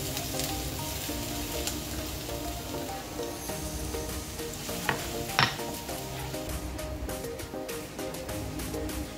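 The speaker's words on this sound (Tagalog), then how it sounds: "tutustahin yung garlic para sa ating sauce mamaya" Garlic toasts in a pan for a sauce, a steady soft sizzle and crackle with occasional faint pops, continuous and fairly quiet throughout.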